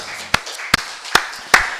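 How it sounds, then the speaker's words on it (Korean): Congregation clapping during a Korean church worship service, with four sharp, evenly spaced claps close by in a slow rhythm and quiet between them. "우리 박수를 하나님께 영광 드리겠습니다"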